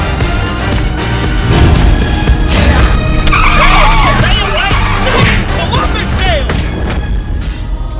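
Cars skidding through a stunt driving battle, tires squealing in sweeping bursts over loud engine roar and crowd noise, close and intense, with voices shouting over it.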